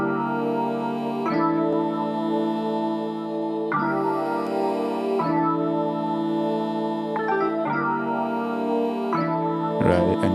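Layered trap beat melodies play together: dense, sustained synth chords with a repeating pattern that shifts every couple of seconds, steady and loud throughout, with a brief busier burst at the end and no talking.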